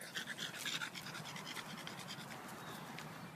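A dog pants rapidly and rhythmically, close up, with a brief scratching sound near the start and no talking.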